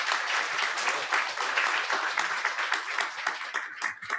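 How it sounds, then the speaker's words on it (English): A conference audience applauds panelists after a panel discussion, giving a sustained, dense round of clapping from many hands that stays fairly steady throughout and fades slightly at the end. "let's give a round of applause"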